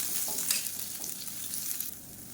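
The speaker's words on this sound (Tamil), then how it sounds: "இப்போ ஒரு மீடியம் சைஸாக பெரிய வெங்காயம் நீளமாக நறுக்கியிருக்கேன் அதை சேர்த்துக்கலாம்" Long-sliced onions hit hot oil in a pan for a black chana dal masala, sizzling and frying with a few stirring scrapes, a close, bright crackle that stays steady and fades slightly near the end.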